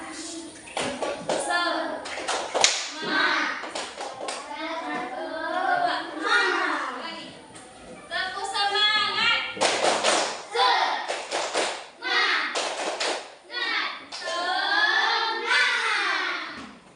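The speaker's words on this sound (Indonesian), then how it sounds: "kita tepuk semangat dulu" Schoolchildren in an Indonesian classroom perform a rhythmic clapping chant, bursts of sharp hand claps alternating with children's voices chanting and singing together, loud and close.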